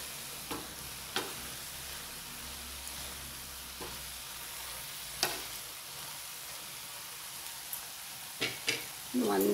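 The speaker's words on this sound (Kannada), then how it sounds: "ಚೆನ್ನಾಗಿ ಒಂದು ಸತಿ ಮಿಕ್ಸ್ ಮಾಡ್ಕೊಂಡ್ಬಿಡೋಣ ಇದನ್ನು" Grated coconut being stirred into mung beans and spinach frying in a pan, with a soft continuous sizzle and a few scattered scraping clicks from the spoon, quiet and close, with no voices.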